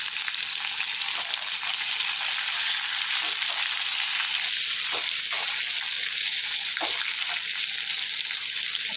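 Stuffed brinjals frying over a very low gas flame, giving a steady soft sizzle and crackle throughout with faint occasional stirring clicks and no voices.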